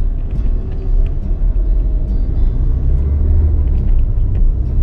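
Road traffic with trucks gives a loud, continuous low engine rumble from passing vehicles, steady and close throughout.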